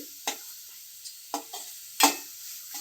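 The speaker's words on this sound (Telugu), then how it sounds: "వేసుకొని మొత్తం ఇలా ఫ్రై చేయాలి చూడండి ఫ్రెండ్స్" Food fries in hot oil in a pan with a faint continuous sizzle, broken by a few sharp stirring scrapes and clinks, the loudest near the end.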